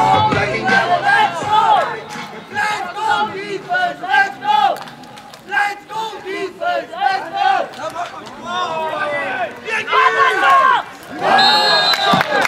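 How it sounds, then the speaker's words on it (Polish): A crowd in the stands at an American football game between the Bielawa Owls and Grizzlies Gorzów Wielkopolski roars and cheers steadily after a hard tackle, with a commentator talking over the noise. "Wielkie brawa."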